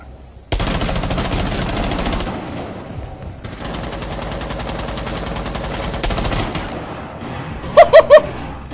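Automatic gunfire in Rainbow Six, loud sustained bursts of shots that start abruptly, pause briefly, resume, then end with three sharp separate shots.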